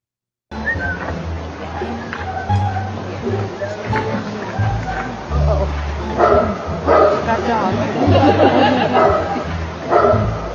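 A dog barks and yips while being introduced to someone, a series of loud, close barks and whimpers mixed with people talking and some laughter.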